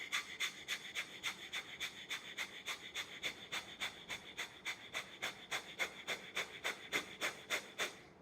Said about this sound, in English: from the left nostril you're going to forcefully inhale